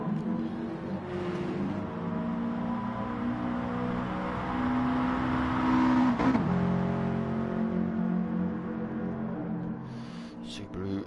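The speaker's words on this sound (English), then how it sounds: "Subaru sounding good" Subaru race car engine in a 90s-classics N300 racing game at the Red Bull Ring, holding a steady, loud sustained drone with rising pitch and a brief shift near the middle, under faint chatter.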